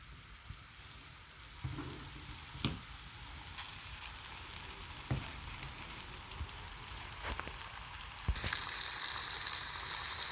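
Spice masala hits hot oil for a Gujarati black chickpea curry, giving a soft, steady sizzle. It swells sharply at about two seconds and again near the end as more goes into the pan, with faint stirring clatter between.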